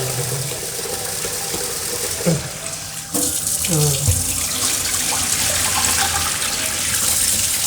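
Freshly harvested sticky rice being rinsed by hand in water, splashing and sloshing steadily close up with a brief clatter near the middle, no talk over it.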